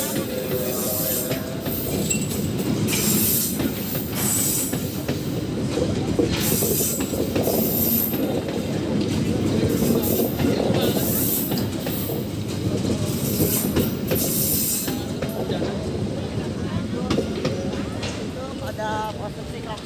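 A train in Indonesia rumbles past close by, wheels clattering and squealing on the rails in a continuous loud roar, with faint voices underneath.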